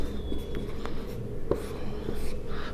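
Pen scratches across paper while a math solution is written out, soft irregular strokes and taps close by under a steady background hum.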